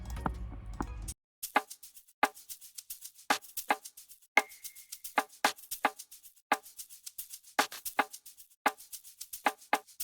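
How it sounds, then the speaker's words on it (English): A shaker loop for an Afrobeat guitar beat plays as a steady pattern of crisp, bright percussive shakes, clear and dry with no voice, after a second of a denser fragment at the start. "So with the other shaker loop, it sounds like this."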